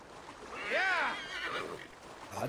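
A horse in the video game Assassin's Creed Valhalla gives a single clear whinny with a rising and falling warble, moderately close, followed by faint hoof and ambient sounds.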